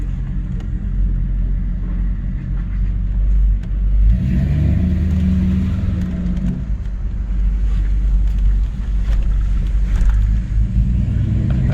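A 1994 Chevrolet Caprice running a Holley EFI Terminator X setup drives along, its engine giving a steady, loud low rumble that swells briefly as it pulls, with no talking.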